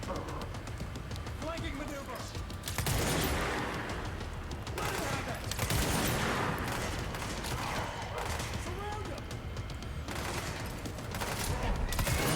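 Rapid bursts of gunfire in the video game Control, dense fusillades repeating across the stretch with brief gaps between volleys, loud against background game sounds while a player talks over it.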